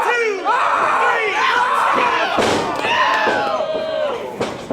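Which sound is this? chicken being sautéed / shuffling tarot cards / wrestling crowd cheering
wrestling crowd cheering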